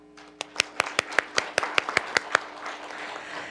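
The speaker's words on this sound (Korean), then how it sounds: "그리고 다음부터 진짜 힘차게 박수 쳐주시기 바랍니다." A small audience at a sharing-economy policy forum gives a brief, sparse round of applause: around a dozen distinct, evenly spaced claps, fairly close, tapering off into room noise.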